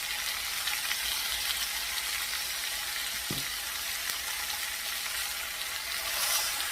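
Seasoned pork for cochinita pibil browns in a hot pan, giving a steady, dense sizzle and hiss throughout, close and even, with one faint clunk midway and no voices.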